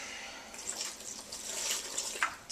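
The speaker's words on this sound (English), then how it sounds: "Add a little bit of water" Water splashes and pours into raw fall smoothie ingredients, including turmeric, in a Vitamix blender container, a short, steady liquid rush with a few brighter splashes near the end.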